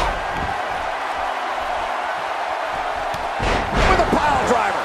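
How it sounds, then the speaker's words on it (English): A piledriver slam lands in a WWE 2K18 women's Fatal 4-Way wrestling match, a loud impact burst near the end rising over steady crowd noise and commentary. "With a pile driver!"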